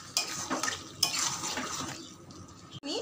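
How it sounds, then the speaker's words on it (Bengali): Fried potato and papaya pieces are stirred into yogurt in a cooking pot, producing wet squelching and scraping with light clinks against the pot, close and soft, with no speech. "এই পর্যায়ে আমি এর মধ্যে দিয়ে দেব ভেজে রাখা আলু আর পেঁপেটা, দিয়ে আমি এর সাথে খুব ভালো করে এটাকেও মিশিয়ে নেব।"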